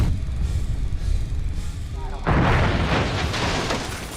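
Heavy booming blasts from double cannon turrets in a video game, a loud burst of explosive fire erupting midway over a rumbling game backdrop.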